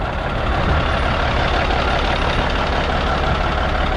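An old truck's engine idles steadily, a constant, fairly loud low rumble with a gritty mechanical texture that runs unbroken with no voices.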